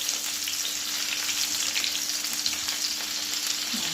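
Tomato sauce sizzles and fries in a hot tagine, a dense, steady crackling hiss heard up close without pause.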